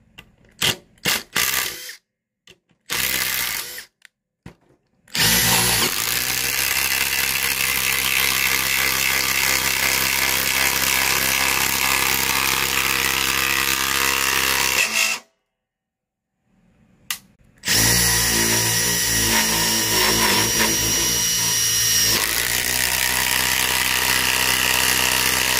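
A DeWalt power tool runs in long, steady, loud bursts, with short stop-start pulses at the beginning and a pause midway before it runs again.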